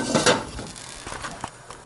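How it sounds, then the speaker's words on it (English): A metal pan of browned butter is lifted and set onto a warming section of a kitchen oven. Close clanks and light scrapes of cookware come at the start, then a few softer knocks follow. "I'm just going to put this pan on a warming section of the oven"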